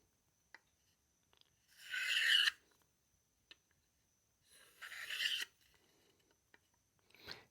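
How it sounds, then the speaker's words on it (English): A fixed-blade EDC knife dragged along a leather strop in three separate rasping strokes, each about half a second to a second long, close and fairly quiet, with small clicks and taps between them. "it seems like it's dragging on the strop a little bit"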